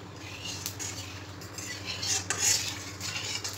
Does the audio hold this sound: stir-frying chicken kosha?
yes